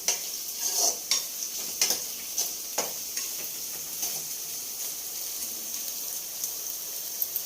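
Chicken frying in a pan sizzles steadily while a spatula stirs it, with sharp scraping clicks against the metal recurring every second or so, close and loud with no talking.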